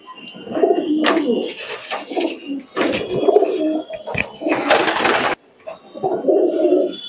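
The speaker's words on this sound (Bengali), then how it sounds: "দাদা এবার এক জোড়া গলা লাল কবুতর দেখাচ্ছে" A pair of red-necked tournament racing pigeons coo nearby in repeated low, throaty rolling calls, interrupted by some rustling and clattering sounds.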